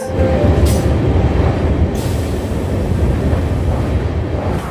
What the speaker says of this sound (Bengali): আমাদের ট্রেন তখন চলছে নরনারায়ণ সেতুর ওপর দিয়ে